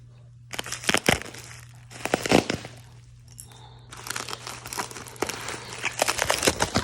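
Packaging for car parts, a rear diff mount kit, crinkles and tears close up in sharp bursts of rustling, with a short pause in the middle before more handling.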